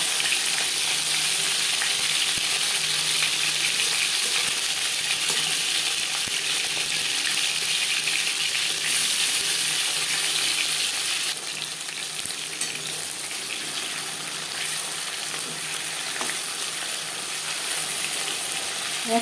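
Aar fish fry in mustard oil, giving a loud, steady sizzling hiss that runs unbroken and eases slightly in intensity partway through.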